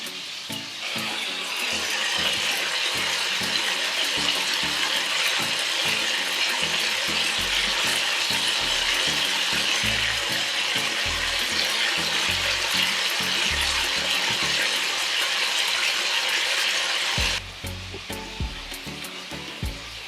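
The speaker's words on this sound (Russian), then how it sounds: "Обжариваем их до корочки. Чуть-чуть ждем, жарятся." Chicken wings sizzle and crackle steadily in a frying pan, a loud continuous hiss with constant spattering pops that drops slightly toward the end, no voices.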